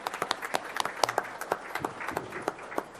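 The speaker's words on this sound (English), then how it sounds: "let's give him a round of applause" Applause from an audience at a school board special meeting, made up of scattered individual claps at a moderate level with no voices.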